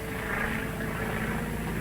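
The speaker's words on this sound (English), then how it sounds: "It's a government plane." Propeller plane flying overhead in a 1939 serial: a steady, droning engine hum with rough buzzing texture, continuous and fairly loud for a short stretch.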